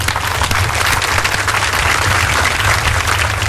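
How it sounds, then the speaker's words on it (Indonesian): Audience applause at an agro-industry palm oil dialogue event in Bekasi, 2011: a dense, steady wash of clapping from a large hall crowd holding at an even loudness for the whole stretch, over a low room hum. "boleh saya minta tepuk tangan paling meriah dari semua yang ada di sini"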